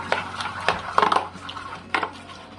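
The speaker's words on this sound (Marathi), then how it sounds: "दही छान असं फेटून घेऊ आपण" Homemade curd whisked in a large vessel, with light, irregular scraping and clinking strokes of the whisk against the pot's sides, close and fairly soft, with no talk.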